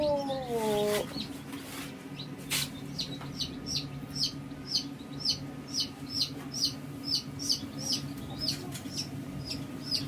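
Many newly hatched chicks from an incubator peep in a steady series of high, short chirps close by, over a constant low hum, with a brief louder fowl call near the start.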